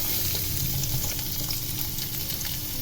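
Sliced onions dropped into hot oil for cutlets, with steady close sizzling frying and faint stirring movements throughout, no voices.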